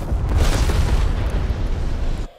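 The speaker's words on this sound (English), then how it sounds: "Napalm strike in the enemy cap." A napalm strike detonates in Call of Duty: Black Ops Cold War, a loud heavy rumbling blast with fiery roar that sustains for about two seconds before cutting off abruptly.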